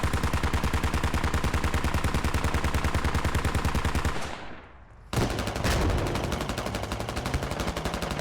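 Rapid automatic cannon fire from a BMP-1 infantry fighting vehicle in a tank combat video game hammers out in a dense, loud, rhythmic burst, then briefly fades and resumes with a heavy boom and continued firing.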